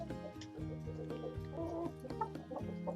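Chickens cluck in a farm coop, a cluster of short, repeated fowl calls close by, fairly quiet, with no voices over them.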